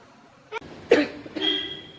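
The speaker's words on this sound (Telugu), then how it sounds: "దగ్గు వస్తుందమ్మా" A single short cough, close and fairly loud, followed by a brief throat-clearing sound against a quiet background.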